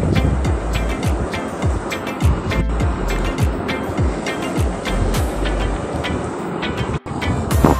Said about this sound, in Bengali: তেলের মধ্যে পেঁয়াজ কুচি দিয়ে দিয়েছি। পেঁয়াজ কুচিটা খুব ভালো করে ব্রাউন করে ভেজে নেব